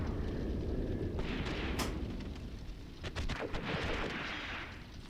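A gun firing in the wartime tactics game Graviteam Tactics, heard as faint, distant booming reports and a brief cluster of cracks over a steady rumbling, rain-like background.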